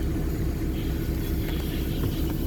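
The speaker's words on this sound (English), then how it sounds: "I actually started the car just now with the aircon on." 1979 Toyota Corolla KE30 with a 1.2L engine running with the air conditioning on, a steady low rumbling drone close to the car, unbroken and without talk.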